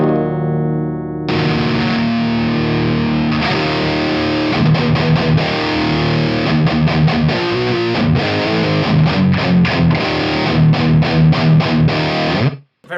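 Electric guitar played through the amp side of a Revv Northern Mauler set to its clean channel, loud and alone, with sustained chords, then choppy rhythmic strumming and palm-muted stabs that end abruptly.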